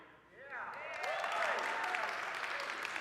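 An audience cheers and hollers to vote for a contestant in a fun eating contest, a loud sustained crowd roar with rising whoops over faint clapping, swelling after a brief quiet start.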